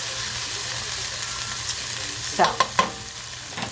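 Lamb for a stew sizzles and crackles in a pan with a constant hiss, a few sharp utensil clanks near the end, and a brief spoken word.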